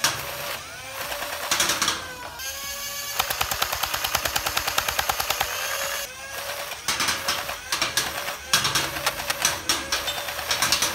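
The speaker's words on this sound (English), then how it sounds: "Let's take you outside and show you some firing of her." A modified Nerf Rapidstrike SMG blaster firing outdoors in rapid full-auto bursts, a loud mechanical rattling stream of shots with a motor whine, broken by short pauses between volleys.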